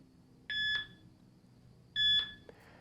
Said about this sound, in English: you're going to hear a beep and a second beep.